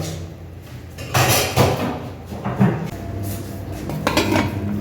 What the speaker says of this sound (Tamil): மூடிய போட்டாச்சு